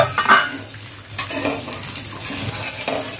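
Egg half-frying on one side in a pan, with a steady sizzle and spatula scrapes against the pan, close and fairly loud, with no talking.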